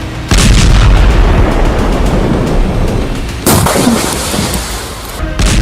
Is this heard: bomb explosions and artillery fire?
yes